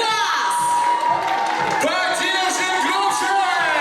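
A crowd of spectators at a university Miss and Mister pageant contest cheers and whoops loudly in a continuous roar, shouts rising over one another with no break.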